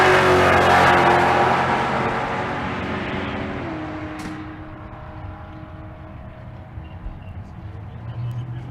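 A 1974 Chevrolet Nova with a naturally aspirated big-block engine of 435 cubic inches or more races down a drag strip at Bandimere, a loud engine roar that fades steadily into the distance.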